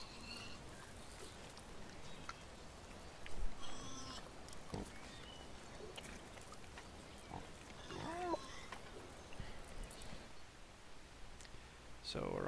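Pigs grunting and snuffling in the Farm Sim farming video game, with short bursts of grunts scattered over a steady game background while a person talks.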